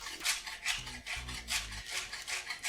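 Kitchen knife chopping a tight bundle of fresh cilantro finely on a board, a quick run of close, crisp rhythmic cuts repeating in steady bursts with no voices.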